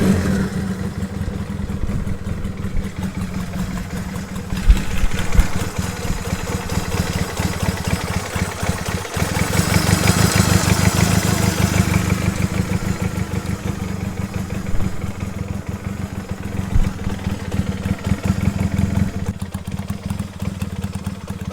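A 1966 Honda CA95 Benley 150 twin-cylinder motorcycle idles close by, a loud, even, slightly clattery putter that holds steady throughout, with a brief blip in the middle and no talking.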